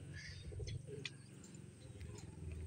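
Low, soft cooing from two pigeons repeats steadily close by, with a few faint higher chirps over a continuous background hum.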